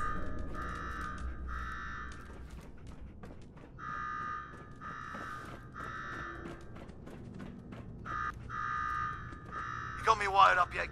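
Repeating alarm buzzer in the Fallout 4 Nuka-World game, sounding in steady on-off bursts about every two seconds, with voices talking over it and clanking game noises beneath.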